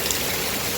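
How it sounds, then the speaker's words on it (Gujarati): Steady rain pours down over flooded farm fields in strong wind, a dense continuous hiss filling the whole moment with no breaks. "વરસાદ ચાલુ છે"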